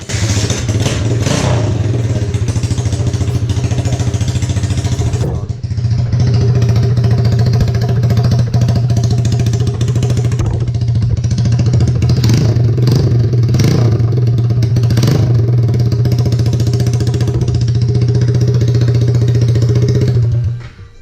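A custom drift trike engine starts and runs for about twenty seconds, a loud, steady close-up drone with some clattering, a brief dip near five seconds, and a few rev bursts before it cuts off at the end.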